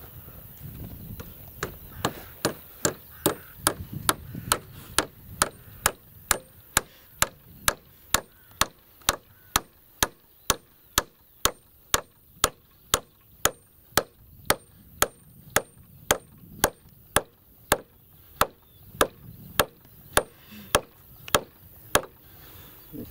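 Hammer blows drive nails into a freshly built wooden bench outdoors at a camp, a long steady series of sharp, loud knocks roughly twice a second with faint background voices between strikes.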